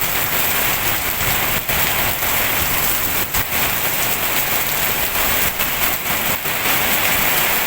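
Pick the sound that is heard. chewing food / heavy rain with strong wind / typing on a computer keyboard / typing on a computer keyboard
heavy rain with strong wind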